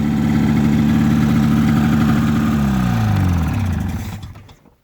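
A 1983 Polaris SS 488 twin-carb snowmobile engine runs loud and close with a steady, buzzing two-stroke drone, then the revs drop and it shuts off, fading to silence.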